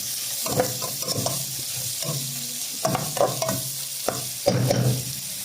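Onion frying in a pan with spices for ti jacques boucané, a close sizzle broken by repeated scraping and stirring strokes of a utensil against the pan.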